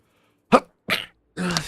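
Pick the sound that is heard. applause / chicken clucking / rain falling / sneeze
sneeze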